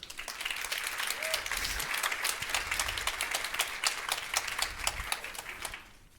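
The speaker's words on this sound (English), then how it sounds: "please greet our panelists with a round of applause" An audience at a panel discussion on women's movements applauds steadily for several seconds, a dense patter of many hands that fades out at the end.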